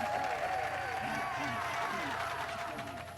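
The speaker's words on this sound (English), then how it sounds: "That's such a hilarious, like, cheering sound" A crowd cheers after a swoop race in Star Wars: Knights of the Old Republic, a looping, synthetic-sounding burst with rising and falling voices over a steady tone, loud throughout and fading slightly at the end.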